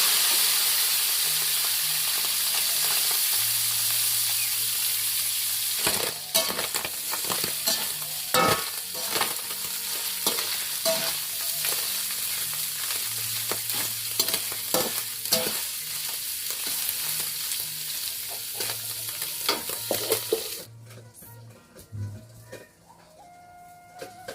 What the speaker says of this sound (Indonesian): Ini kita goreng songkolnya.